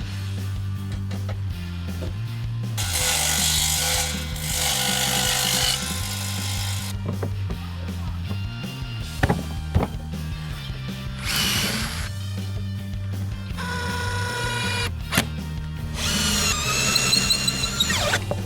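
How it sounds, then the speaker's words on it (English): A power tool trims the wooden overhang off stacked swarm trap boxes, whining loudly in long bursts with squealing rises and pauses between cuts, close and steady, with no talk. "I'm going to trim that overhang off on all the boxes all at the same time"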